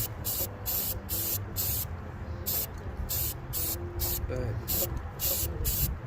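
Paint sprayer hissing in rhythmic bursts while coating a boat trailer, each spray pass lasting under a second with short gaps, close and steady, with someone speaking briefly over it.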